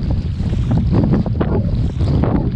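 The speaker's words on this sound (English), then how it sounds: "Very good opportunity to feel what this wind is like without being in real danger." Strong wind at sea roars steadily and loudly across the microphone during sea kayaking off Wardang Island, with a continuous rush of gusts and the wash of waves under it, nobody speaking.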